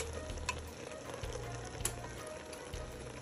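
Onions and bell peppers sweating in a pan give a quiet, steady sizzle with faint low rumbling underneath and a couple of brief clicks, no talking.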